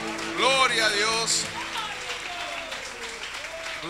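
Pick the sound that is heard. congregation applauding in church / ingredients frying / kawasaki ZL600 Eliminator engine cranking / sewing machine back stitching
congregation applauding in church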